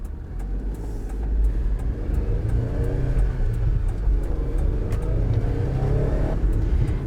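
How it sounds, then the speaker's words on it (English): Road and engine noise inside a 2011 Mitsubishi Minicab 4WD kei truck (U62T) while driving, a steady moderate drone with low rumble throughout and no talking. "The road noise, I would say not too bad at all."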